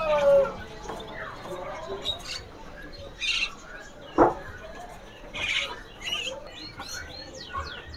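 Jalak kebo starlings in a bird shop call in scattered bursts, harsh squawks and short chirps spaced through the clip, with one sharp loud call midway and a quiet background between.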